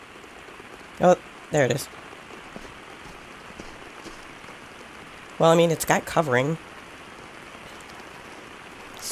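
Steady rain falls in the jungle survival game Green Hell VR, a constant hiss throughout with no breaks, while someone speaks briefly twice over it.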